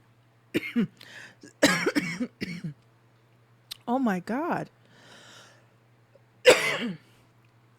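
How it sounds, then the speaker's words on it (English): Several harsh coughs and throat clearing break up short bursts of speech, with quiet pauses between them. "You know when you have those coughing fits"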